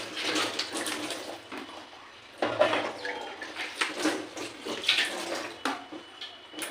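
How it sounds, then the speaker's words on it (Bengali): Tap water runs in uneven splashing bursts while dishes are washed at a sink, with soft clinks between the surges. The sound stays fairly quiet throughout. "বাসন ধোয়া কমপ্লিট"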